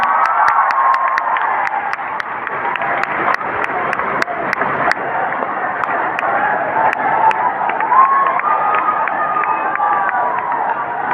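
A large audience at a motivational event in Prayagraj claps and cheers continuously, with loud sharp claps and shouting voices filling a long, sustained roar of crowd noise.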